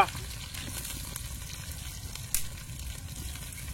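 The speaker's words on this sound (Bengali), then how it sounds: "এখন দিয়ে দেবো পেঁয়াজ সাথে দিয়ে দেবো কাঁচা লঙ্কা" Onion and green chili frying in oil, a soft steady sizzle with faint stirring and one brief clatter midway, fairly quiet.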